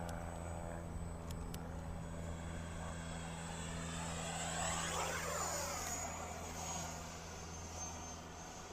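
A Freewing 64mm F9F Panther RC model jet flying, a continuous ducted-fan whine that swells and sweeps in pitch as it passes, fairly distant and steady throughout.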